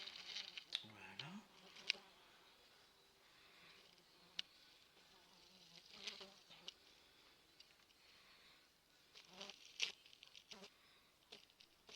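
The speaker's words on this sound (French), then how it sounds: "Oh la mouche." A fly buzzes faintly in short intermittent bursts close by, with soft rustles and quiet whispered talk around it.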